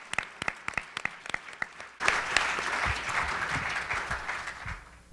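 An audience applauds after a panel discussion on polarization, starting with a few scattered claps that swell at once into dense, sustained clapping from a full room for several seconds.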